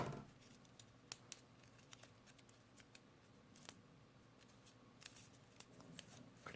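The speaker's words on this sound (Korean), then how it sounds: "얘도 좀 뾰족한 부분을 좀 잘라주세요." Scissors snip paper pieces for a paper-build origami robot model, the Hornet Dragon, a run of quick, light, close cuts with small rustles between them, quiet and steady throughout with no talking.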